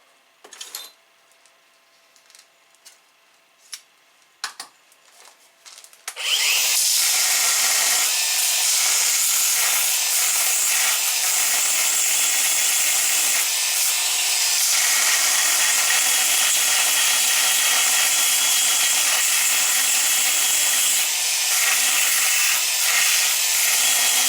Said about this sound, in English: The welds were then tidied up a little with the belt sander.